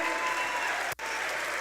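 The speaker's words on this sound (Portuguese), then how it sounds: "aplauda Jesus" A church congregation applauds, a steady wash of many hands clapping at even volume, broken by one abrupt cut near the middle before continuing.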